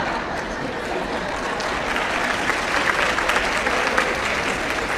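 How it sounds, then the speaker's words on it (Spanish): Steady applause from an audience, mostly women, at an education talk; dense, even clapping fills the whole stretch at moderate loudness with no voices over it. "Porque solo veo aplaudir a las mujeres"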